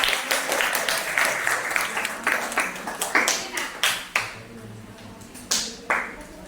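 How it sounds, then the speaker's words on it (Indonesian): A group of students in a classroom gives a round of applause before a group presentation. Loud, close clapping builds quickly, then thins into scattered separate claps that fade out toward the end. "Tepuk tangan dulu dong"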